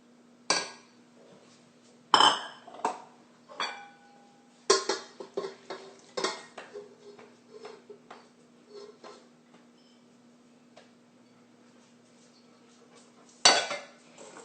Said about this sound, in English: now I'm going to throw it into my KitchenAid mixer and get it all the ingredients mixed together